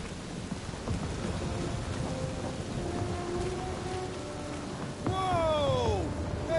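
A thunderstorm in the video game Marvel's Guardians of the Galaxy: dense, steady rain hisses throughout, then a louder rumbling swell with sweeping tones rises near the end.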